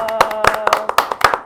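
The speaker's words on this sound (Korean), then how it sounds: "박수 한번 쳐주십시오." A studio group applauds the first-place winner of a subscriber prediction contest on a Korean political talk show, a handful of distinct sharp claps in an uneven patter, close by, with a voice speaking over them.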